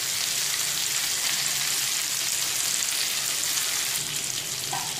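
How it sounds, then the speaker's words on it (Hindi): Eggplant slices with leftover spices sizzle steadily in a pan over low heat, a continuous even frying hiss with no talk. "तो ये बैगन को मैं डाल दी, ये जो मसाले बचे हैं इसके ऊपर डाल देंगे हम। इसको हल्के आंच पे हम बनने देते हैं।"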